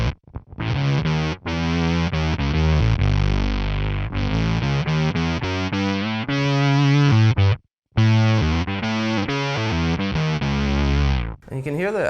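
Guitar synth pedal tracking fast guitar riffs, a loud distorted synthetic tone in choppy staccato phrases with short gaps and one brief pause, played alone without talk.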